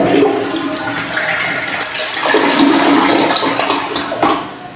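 A newly installed bidet on a second-floor bathroom supply sprays strong water under test, a loud close rushing gush that surges and shifts in intensity, with no talking.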